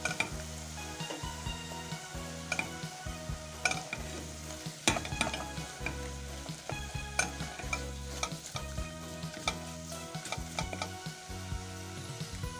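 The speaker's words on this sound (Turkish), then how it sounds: "Yumuşayan sebzelerin üzerine 2 yemek kaşığı un ilave ediyorum. Bunun da kokusu çıkıncaya kadar onu da güzelce kavuruyorum." Flour roasting with softened vegetables in a pan, a soft continuous sizzle broken by rhythmic scraping and stirring strokes of a spoon against the pan, close and alone.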